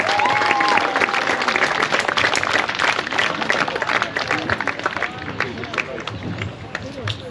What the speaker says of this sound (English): Ladies and gentlemen, one more time, round of applause for Hutt Valley